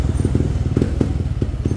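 Yamaha NMAX scooter fitted with an SKR Racing aftermarket exhaust, revved in quick repeated blips over a steady low idle burble, close and loud throughout.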